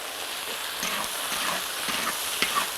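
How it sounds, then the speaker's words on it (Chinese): Dried chilies and Sichuan peppercorns sizzle and hiss in hot oil in a wok, with ginger and garlic frying in for spicy braised duck heads. The steady frying noise is broken by soft scraping stirs. "我来开始炒了哈，锅里面倒点油哈，你可以多来点"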